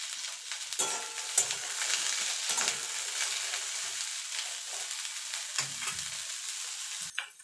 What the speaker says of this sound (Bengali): সামান্য একটুখানি নুন দিয়ে কপিটা ভেজে নেব।